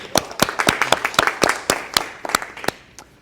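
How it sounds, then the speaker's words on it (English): Sharp hand claps at a wedding ring out in an uneven run, a few people clapping loudly and close by for about three seconds. "Let's give them a round of applause."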